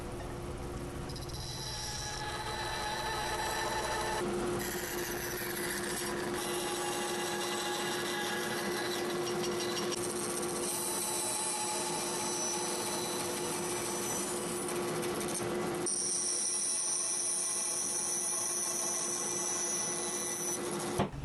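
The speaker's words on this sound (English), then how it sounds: "I'm cutting the tenons on the end of the breadboard for the shelf" Walnut tenons are cut on the end of a breadboard for a coffee table shelf, giving a steady, loud whirring cutting noise with a high whine that runs for about twenty seconds without talk.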